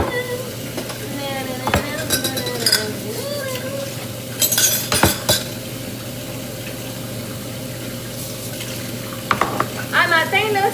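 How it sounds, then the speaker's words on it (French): Leftover dishes being washed by hand on a Sunday at home, with clinking pots, cutlery and running water in steady close clatter, a few sharper knocks standing out, and a voice talking at times. "On va laver ce petit fond de vaisselle là"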